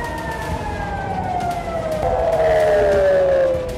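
Air-raid sirens in Tel Aviv, Israel, wail and sweep slowly through their pitch over steady traffic-like background noise, continuous and fairly loud throughout.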